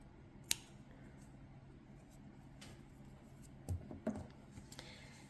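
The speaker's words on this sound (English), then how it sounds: "cut that yarn." Scissors snip yarn while a toy flamingo is being made, leaving one sharp close cut followed by a few fainter clicks and handling sounds in an otherwise quiet room.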